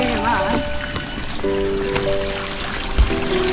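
Hill spring water trickling from a pipe on a hiking trail at Bukit Wawasan, Puchong, a steady splashing flow mixed with faint tonal background sounds and brief knocks.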